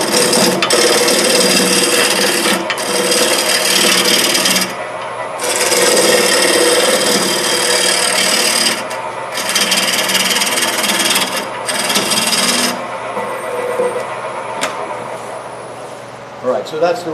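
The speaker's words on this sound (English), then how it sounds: "All right, so that's the roughing gouge." Roughing gouge cutting wood on a lathe, loud raspy shearing bursts that stop and start several times, with quieter gaps between cuts and a steady motor hum underneath.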